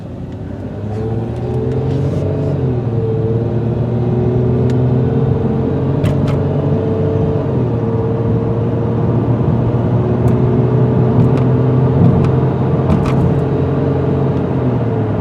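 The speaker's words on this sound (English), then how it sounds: "let you listen to the car go rev up all the way to 50 miles an hour" A 2004 Dodge Intrepid's engine steadily revs and climbs through its gears up to 50 mph on a small road, the rising drone dipping at each shift, loud and close with road rumble underneath.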